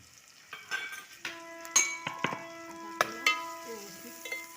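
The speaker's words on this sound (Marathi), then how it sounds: "व्यवस्थित ते मसाले कांद्यावर परतून घ्यायचे" Onion and spices (red chili powder, garam masala, turmeric) sizzling in a pan as a utensil stirs and scrapes, with steady frying hiss and intermittent metallic clinks and knocks close by.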